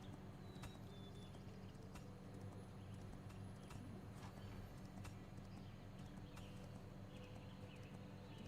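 Horse hooves clip-clop in a video game, a faint, continuous trotting rhythm under a steady hum of game ambience.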